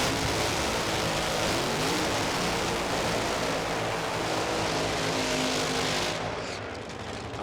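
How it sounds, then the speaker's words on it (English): Nitro funny car engines at Sydney Dragway produce a loud, continuous, reverberating roar that holds steady across the venue before easing slightly at the end. "That beautiful sound of Nitro is coming to you from Sydney Dragway."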